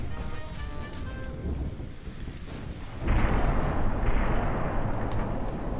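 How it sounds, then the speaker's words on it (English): Torpedo hits bursting against warships in Ultimate Admirals: Dreadnoughts, a German cruiser campaign naval battle: a loud booming rumble sets in and swells over churning sea noise, with a fainter earlier burst beneath distant gunfire. "Yay, more torpedoes"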